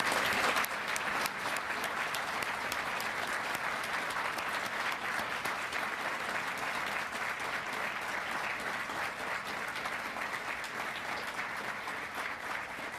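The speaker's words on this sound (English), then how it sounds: "How about one more round of applause for our honorees?" A crowd at an anti-corruption champions award ceremony gives the honorees a sustained round of applause, with steady, even clapping from many people that continues for the whole stretch.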